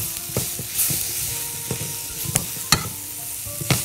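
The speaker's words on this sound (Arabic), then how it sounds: "فخلينا نحط كده تقريبا يعني معلقة ونقلبها كده لغاية ما تختفي خالص." A spoonful of flour stirred into a thick sauce in a hot pan for an English sausage pie, with a steady sizzle and repeated scraping clicks of the spoon against the pan, close and clear.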